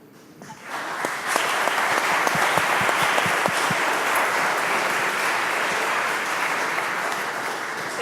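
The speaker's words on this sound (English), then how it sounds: "That is certainly one way to get an entire room clapping for your presentation." A room full of people applauds at the end of a presentation at a data and organization event, with dense, sustained clapping that swells in quickly and holds steady for several seconds, without talk.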